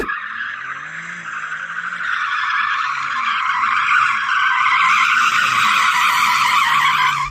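Tyres of a BMW skid and squeal loudly during a hard launch in a straight-line drag race against hot hatches and coupes, a sustained shrieking screech running continuously over engine roar.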